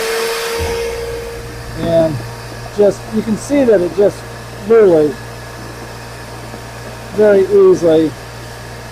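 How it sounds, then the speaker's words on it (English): Steady close hum of a vacuum cleaner fitted with a 3D printed corner attachment, running throughout with a person talking over it. "So I'm going to go ahead and turn on the vacuum here."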